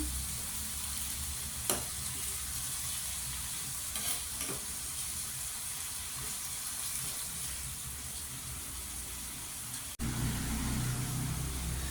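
Chicken adobo sizzles steadily in a pan while it is stirred, with a few soft knocks of the utensil over a constant frying hiss, close and even in level, with no talk.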